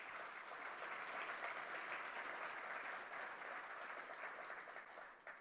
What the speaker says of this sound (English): but bigger round of applause